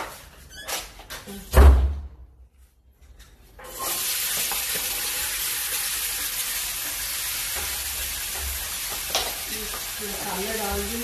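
Potato and cauliflower curry frying with spices in a pan, a steady broadband sizzle that swells after a few seconds of clinks and stirring and holds loud and close, without tomato.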